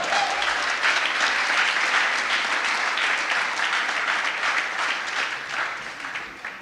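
Church congregation applauding during a sermon, a full, continuous wash of clapping from a large crowd that fades slightly toward the end.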